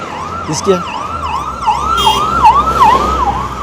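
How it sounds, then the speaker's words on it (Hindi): A speeding ambulance's siren wails in a steady, rapidly repeating up-and-down pattern, loud and close, with road noise underneath. "इसके देखते नतीजे आप भी देखते हैं कि एम्बुलेंस की रफ्तार भी तेज़ है यहाँ पर"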